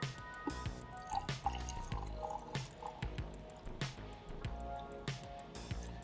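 CineStill CS41 Blitz developer poured into a film developing tank, heard as close, irregular splashes, drips and gurgles of liquid filling the container, with soft handling knocks between them.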